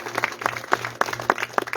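Congregation clapping along in church during worship, a steady rhythmic beat of many hands, close and fairly loud with faint voices underneath.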